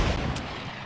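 A single loud gunshot in the Fortnite video game, a sharp close blast that decays quickly into a rumbling tail.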